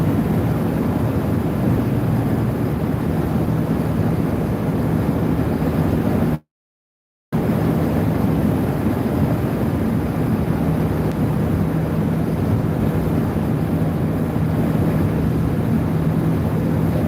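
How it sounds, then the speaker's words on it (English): Steady broadband wind roar inside a convertible with its top up at highway speed, constant and fairly loud with a low road rumble, broken by one short total dropout. "I'd like this thing not to have the wind noise when I have the top up"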